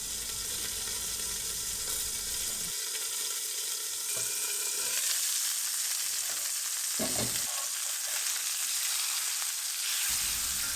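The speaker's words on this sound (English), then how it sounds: "Half of it I'm gonna saute with the chickens, just roughly chopping." Steady, bright sizzling of chicken pieces sautéing in a hot pan on high heat, with a few brief clatters of stirring partway through; no voices.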